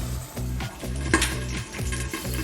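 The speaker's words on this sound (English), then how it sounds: "All that noise is the eggs. The popping is happening because this frying pan hates me." Eggs frying in a lidded frying pan, a steady sizzle broken by repeated soft pops and a sharper crackle, heard up close.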